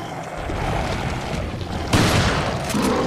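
A single loud shotgun blast in Resident Evil 4 cracks out partway through, cutting sharply over a dense, rumbling background of noise.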